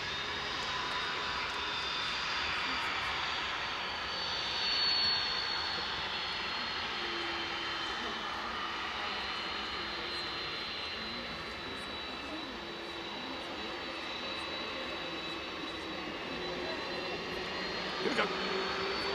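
A freighter aircraft departing at night from East Midlands Airport, its engine roar a steady, broad rumble held at middle distance for the whole stretch, with quiet voices in the background.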